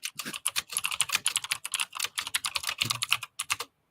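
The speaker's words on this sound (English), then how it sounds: "My keyboard is so loud." Rapid, continuous typing on a loud mechanical Razer keyboard, crisp close-up clacks in quick bursts for several seconds with no talking, stopping abruptly near the end.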